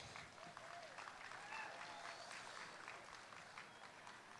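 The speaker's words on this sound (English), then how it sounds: "give him a nice round of applause" An audience at a county fair 4-H/FFA market steer show applauds a champion exhibitor, a faint, distant, sustained patter of clapping from a crowd in a large arena.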